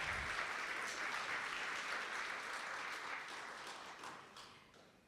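An audience at a climate change centre launch event gives sustained applause after a sung performance. The dense clapping is steady, then tapers off toward the end.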